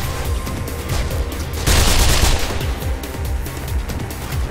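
Gunfire in the video game Mirror's Edge, a rapid burst of repeated shots with a louder cluster in the middle, loud and close, with no talking.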